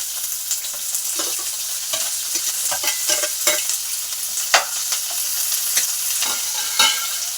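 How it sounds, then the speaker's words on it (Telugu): Green chilies and onions fry in a hot pan for a Telugu mudda vankaya (mashed brinjal) dish, a steady bright sizzle broken by repeated scraping stirs, close and fairly loud with no talking. "ఇప్పుడు ఇందులో మిరపకాయలు పచ్చిమిరపకాయలు అండ్ ఉల్లిగడ్డలు కూడా వేసుకోవాలి"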